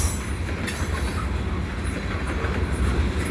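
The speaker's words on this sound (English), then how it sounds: "It's a tanker train." A CN freight train of tank cars rolls steadily past nearby at night in Saint-Laurent's industrial park, a dense continuous roar of wheels on rails with faint rhythmic clacking and occasional metallic squeals.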